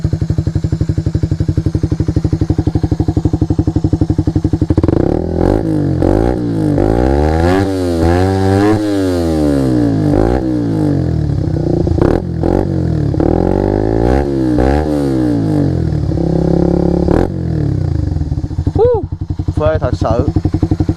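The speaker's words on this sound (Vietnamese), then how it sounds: "giờ nổ máy lên cho anh em nghe Ganti ở đây thử ha" A big-displacement motorcycle engine running Repsol Racing oil idles loudly up close, then is revved repeatedly in rising and falling bursts, with a few sharp throttle blips near the end.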